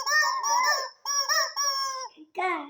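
Toy chicken sounding off: several loud, near squawking crows in quick bursts with brief gaps, ending on a lower cluck-like note.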